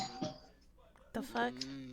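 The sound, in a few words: doorbell ringing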